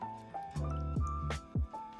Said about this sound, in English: pour half of this cold and creamy broth over the noodles